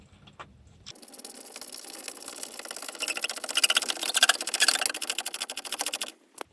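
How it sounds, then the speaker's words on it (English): Ratchet socket wrench fitted with a 16mm socket working on the suspension of a VW Transporter T4 under restoration, giving a steady run of fast, close clicking that grows louder midway and then stops abruptly. "I'm just going to get a 16mm out the socket set now"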